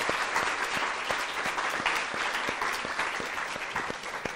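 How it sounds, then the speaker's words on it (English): An audience claps steadily for an arriving speaker, a dense, even round of applause at moderate distance with no talking over it. "Give him a round of applause."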